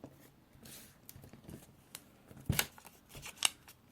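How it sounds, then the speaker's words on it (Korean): Scissors snip diagonally through folded paper while making an origami paper fighter plane. The snips are quiet and sparse, with two sharper, crisp cuts near the end. "그리고 대각선으로 잘라주세요."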